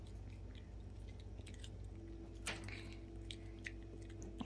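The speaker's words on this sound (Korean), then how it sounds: "아우, 잘 씹어먹네." A dog chewing a carrot, close and quiet, with repeated crunchy bites and wet chewing in an irregular rhythm, one sharper crunch standing out midway, no talk over it.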